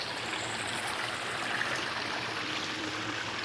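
Water from a backyard garden waterfall pours and splashes in a continuous, even rush, steady and moderately close with no pauses or voices.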